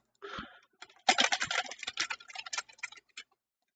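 Keyboard keys clatter in quick, irregular bursts for about three seconds, close and fairly quiet, as text is typed into a bounding box in animation software, then stop.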